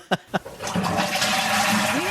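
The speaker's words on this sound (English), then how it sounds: "We should have like a sound of a toilet flushing." A toilet flushes with a steady rush of water swirling down, loud and close, after two brief knocks or clicks at the start; voices can be faintly heard.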